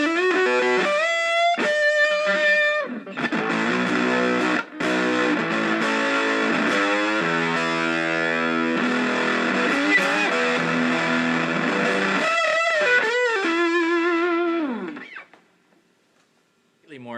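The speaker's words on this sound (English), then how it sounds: "More heavier distortion, a little more sustain to it, a little more aggression." An electric guitar played through a home-made germanium fuzz pedal set for heavy distortion, loud and close, with thick sustained chords and notes ringing out before fading into silence.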